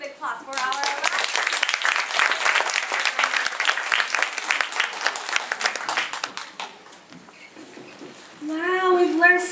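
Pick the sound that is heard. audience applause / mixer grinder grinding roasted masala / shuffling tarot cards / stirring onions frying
audience applause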